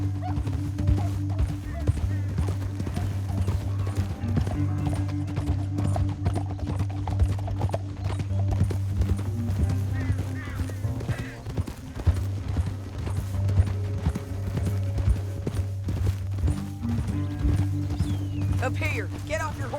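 Rhythmic hoofbeats of horses galloping steadily under a low droning rumble, with voices talking over the action throughout, in the video game Red Dead Redemption 2.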